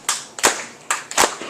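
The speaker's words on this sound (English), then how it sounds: "I need some audience participation once again with some hand clapping" Audience members at an open mic night in a bakery café clap along: four sharp, separate hand claps in a loose, uneven rhythm, close and crisp with short pauses between them.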